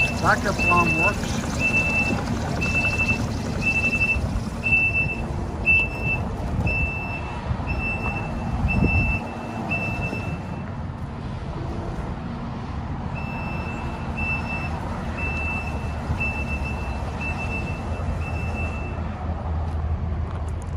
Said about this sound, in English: Backup alarm works.